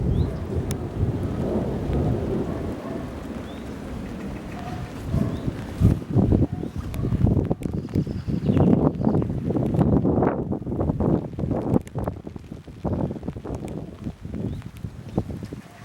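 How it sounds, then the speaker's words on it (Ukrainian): Steady April spring rain with rolling rumbles of distant thunder and gusts of wind, a continuous storm wash building into heavier crackling bursts toward the middle. "Ось такий квітневий дощик, гроза."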